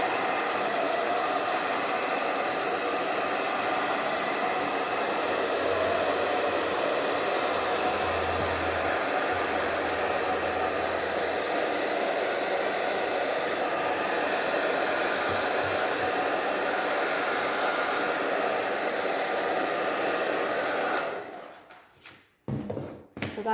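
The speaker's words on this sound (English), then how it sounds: "let's try just blow drying it without adding more." A hair dryer blows steadily on a Mod Podge-coated decoupage gnome, a loud continuous whooshing roar for about twenty seconds before cutting off, followed by a few faint handling sounds.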